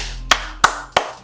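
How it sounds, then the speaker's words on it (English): Three sharp hand claps ring out at an even rhythm, each a crisp, loud slap with a short decay, close and alone without talk. "A clap."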